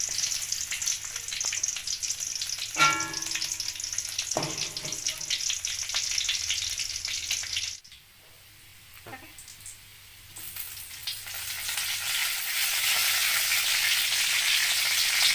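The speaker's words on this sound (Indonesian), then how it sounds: "Sekarang kita tumis bawang merah, pandan dan daun kari dulu ya." Shallots, pandan and curry leaves sautéing in a pan for an Acehnese tofu and tempeh curry, a steady sizzle with brief stirring scrapes and a short quieter stretch midway.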